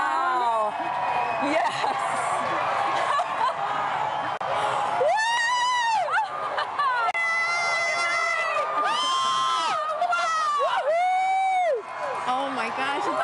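A large outdoor crowd at a total solar eclipse erupts in sustained cheering, whooping and high-pitched screams, loud and continuous, with a person shouting over the roar.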